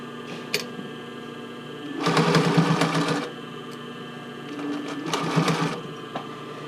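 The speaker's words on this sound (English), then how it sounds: "I could sew, basically do the whole thing all the way up" A sewing machine stitches a tankini in two short runs of fast, steady mechanical whirring, with a quieter idle hum between them and no talking.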